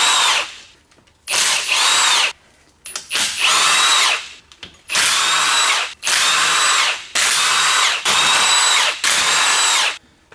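A power tool spins out 14 mm bolts from a differential cover in repeated bursts of high whirring, each lasting about a second with short pauses between, loud and close.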